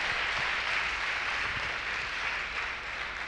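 Steady, moderately faint applause from a church audience, a dense continuous wash of clapping hands with no break, slightly tapering near the end.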